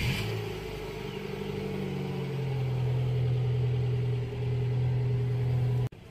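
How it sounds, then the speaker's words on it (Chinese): A repaired car engine runs close by, a steady low hum that builds and holds with a strong tone, no talk over it, ending abruptly. "听声音好了，发动机声音好了。"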